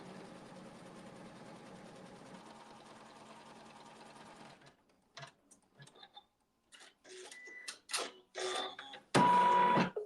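A sewing machine stitches wool through fabric at a workshop, a steady close mechanical whir running for about four and a half seconds, then stopping before scattered handling clicks and rustles.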